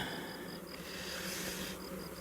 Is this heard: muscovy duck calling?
no